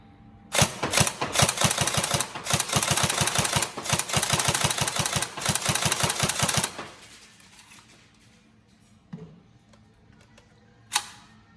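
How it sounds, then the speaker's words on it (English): Airsoft SCAR H magazines for a Tokyo Marui SCAR H NGRS being speed loaded in bulk, a dense rapid run of loud close clicking and rattling for about six seconds, then near quiet with a couple of isolated knocks. "Always fun speed loading these SCAR H mags en masse."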